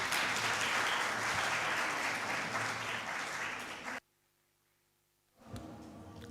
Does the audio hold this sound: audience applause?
yes